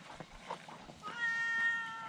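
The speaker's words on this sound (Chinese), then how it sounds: "加上现在在这边遇到的 喵喵" A cat meows near a waterfall trail parking area, a short drawn-out mew rising at the end after some soft rustling, close but faint.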